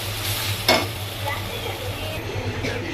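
Masala with salt, turmeric and chili fries in a pan, a steady close sizzle with scraping stirs and a brief sharp clatter, a voice faintly present underneath.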